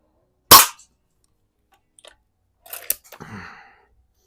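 An Eisenwerke Gem No. 13 air gun, over 125 years old, fires a pellet with one sharp, loud crack, followed a couple of seconds later by faint clicks and a brief rattle as a can is hit and reloading begins.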